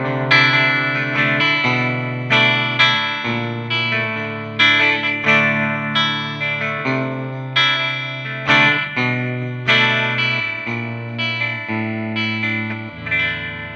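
Squier 50th anniversary Telecaster electric guitar played on the bridge pickup through a GP100 multi-effects unit set to a Twin Reverb amp model, giving clean, chiming strummed chords with reverb in a steady rhythm, loud and alone.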